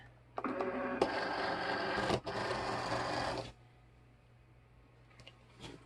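A Cricut cutting machine loads its mat with a mechanical whirring motor run of a few seconds, broken by clicks, then settles to a quiet hum.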